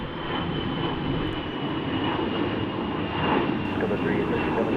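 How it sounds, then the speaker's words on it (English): An Airbus A320 takes off bound for Los Angeles, seen at Salt Lake City airport, a steady broad jet engine roar that swells slightly, with voices talking over it. "Airbus A320 off and going to Los Angeles."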